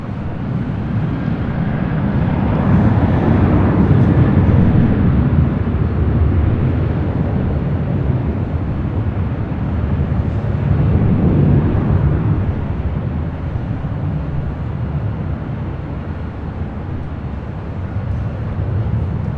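A Delta airliner taking off from LAX runway 24 left, a sustained broad engine roar that swells and fades over a long stretch, heard from a distance with no talking.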